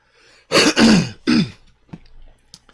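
A person clears their throat with a few harsh, rasping bursts close by, followed by softer small throat noises and quiet breathing.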